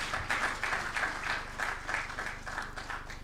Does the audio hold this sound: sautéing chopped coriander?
no